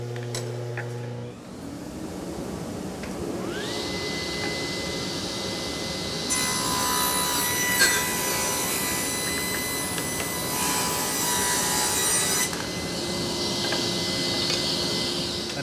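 A saw motor winds up to a steady whine, then bites through a small wood piece set against a fence stop block, a loud buzzing cut lasting several seconds before easing back to the idle hum.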